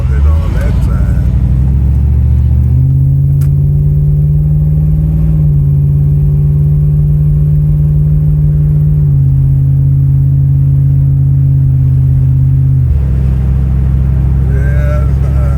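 A small carbureted truck engine running while driving, a loud steady mid-pitched drone with shifts in pitch as it changes speed, heard from inside the cab.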